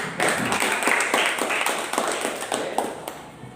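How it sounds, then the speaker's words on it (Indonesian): An audience of classmates claps steadily for a presenting student group in a classroom, a dense burst of applause that continues throughout. "Berikan tepuk tangan untuk kelompok 1 dulu."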